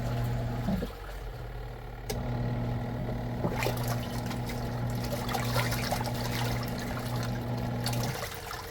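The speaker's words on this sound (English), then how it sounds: "Nice little washer tucked away under the aft companionway stairs." A small semi-automatic washing machine tucked under the aft companionway stairs aboard a sailboat runs with a steady low hum and watery sloshing, starting after a brief knock and continuing unbroken near at hand.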